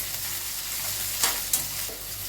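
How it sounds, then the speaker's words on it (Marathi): Large-cut okra stir-fries with green chillies over high heat, a dense continuous sizzle up close broken by two quick spatula scrapes. "भेंडी चांगली परतून घेऊ"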